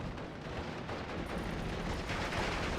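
Steady battle din from Steel Division 44, with a 6-pounder anti-tank gun firing on a Panzer 35 amid a continuous wash of gunfire and rumble. No single sharp shot stands out clearly.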